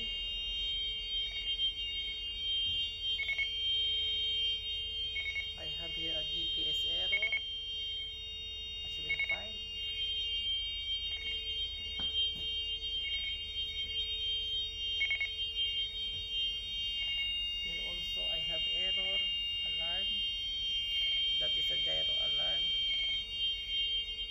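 Steady electronic alarm tones from a ship's navigation equipment, including a TCPA alarm, with repeated beeping over a constant equipment hum and occasional brief bursts of other noise.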